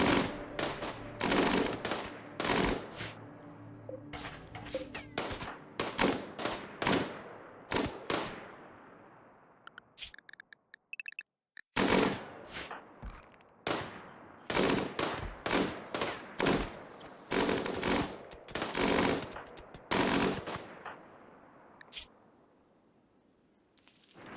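Rapid machine-gun fire in the video game RimWorld pounds against walls in loud, dense bursts, with a short lull midway before the volleys resume and then taper off.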